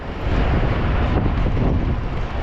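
Strong wind at a roadside near a highway toll plaza in Karnataka, a loud continuous buffeting roar on the microphone with no voices.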